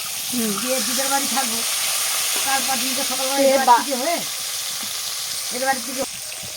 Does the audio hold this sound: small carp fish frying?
yes